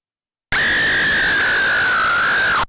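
A long, sustained digitized scream from the Commodore 64 game Friday the 13th, a single shrill held cry lasting about two seconds, loud and alone before cutting off abruptly.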